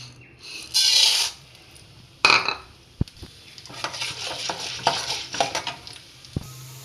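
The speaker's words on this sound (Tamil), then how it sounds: "கடலை பருப்பு உளுந்த பருப்பு கொஞ்சம் சேவட்டும்" Chana dal and urad dal frying in peanut oil, two bursts of hissing as lentils hit the pan, then a quieter crackle with small scraping stirs and a few light knocks, no talking.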